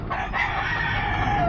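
A gamefowl rooster crows once, a short harsh call at moderate distance over faint background noise.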